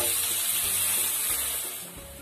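Water rinsed from a garlic-grinding vessel is poured into a pot of frying garlic, giving a loud steady hiss and sizzle with splashing that eases slightly toward the end.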